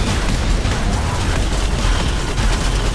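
Weapon fire in the PC first-person shooter Nexuiz during a one-on-one deathmatch, a dense barrage of booming blasts and bursts with no pause.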